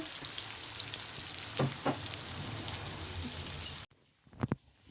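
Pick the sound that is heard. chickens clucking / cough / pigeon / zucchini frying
zucchini frying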